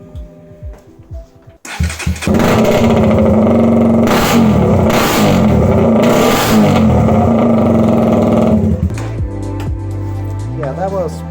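A KTM Duke 125 single-cylinder motorcycle with only a link pipe and no muffler cranks briefly, catches and runs loud and raspy up close, revved in several sharp bursts before being shut off, with a few faint spoken words around it.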